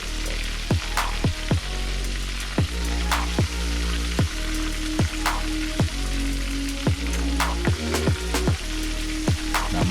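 Stuffed squid fries in hot oil with a dense, continuous close sizzle, broken by regular rhythmic thumps and clicks that repeat roughly every half second throughout, with no one speaking.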